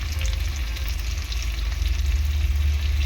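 Green chili sizzles in hot oil for a Bengali fish curry with mankochu, a steady, close frying crackle with no pauses.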